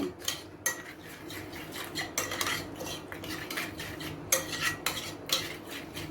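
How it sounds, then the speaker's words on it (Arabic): A spoon stirs oil into a vinegar-based chicken marinade in a bowl, giving repeated close, bright metallic scrapes and clinks in an uneven rhythm with no talking. "هقلبهم كويس قوي مع بعض"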